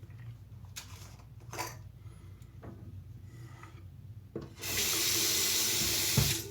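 Cold water gushing from a sink tap, switched on abruptly after some quiet clicks and handling noises, then a loud steady close rush for the last two seconds.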